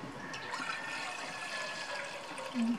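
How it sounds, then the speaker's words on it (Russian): Water pours steadily into a cooking pot for a vegetable soup with okra and ginger, a continuous close rushing and gurgling stream with no voices over it. "Первым делом я наливаю воду"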